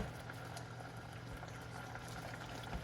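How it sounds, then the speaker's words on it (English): Teriyaki sauce with tofu simmers in a pan on the stove, giving a steady, dense bubbling and soft popping hiss that runs continuously at low volume with no voices. "Almost boiling, but this is simmer right now."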